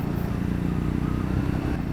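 Triumph Scrambler 400X motorcycle cruising at around 80 km/h on the Chakrata road, a close, steady engine drone mixed with road and wind noise throughout.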